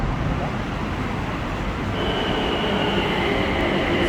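Bangkok subway train pulling into a station, a steady loud rumble of wheels and rail noise that continues throughout, with a thin high squeal entering partway and holding to the end.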